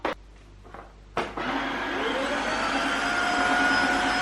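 A vacuum cleaner sucking up spilled almond milk: a few clicks and thumps, then the motor spins up to a steady, loud whine that holds on with a slight rising pitch.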